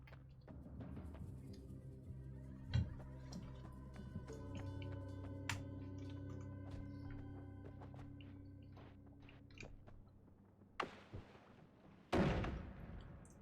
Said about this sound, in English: I can already hear gunfire going on in the game.